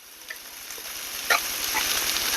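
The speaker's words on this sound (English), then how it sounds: "let the spam cook a little bit" Diced spam cooks in a pan with a steady, soft sizzle and faint crackle, small pops now and then, fairly even and close, with no talking.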